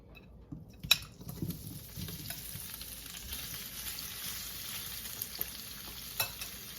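Steady sizzling of marinated paneer frying in oil in a hot pan, with occasional stirring clinks and scrapes, continuous and fairly close, no voices.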